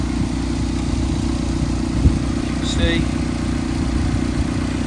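A tuned Mazda MX5 engine idles steadily with a low, even rumble while someone talks over it.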